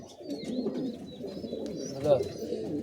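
Low, rolling coos come from several giribaz pigeons being paired off at a breeder's house, continuous and fairly close, swelling briefly near the end over faint background murmur.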